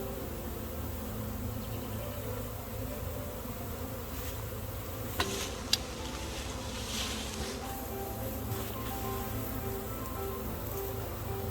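A swarm of honeybees being captured outdoors fills the air with a dense, continuous buzzing hum that stays steady throughout, broken only by a couple of brief clicks.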